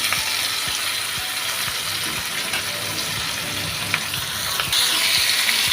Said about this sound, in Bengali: ভালো করে আলুর সাথে ভাজা হয়ে গেছে এবার আমি এঁচড়টা ঢেলে দিচ্ছি সেদ্ধ করা এঁচড়টা ঢেলে দিলাম